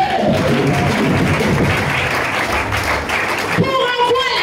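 A church congregation applauds in praise, with dense, steady clapping close by and a few voices calling out over it.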